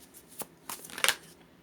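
Tarot cards being shuffled by hand, a few quick papery riffles and slaps in a short burst, close and moderately loud against a quiet room.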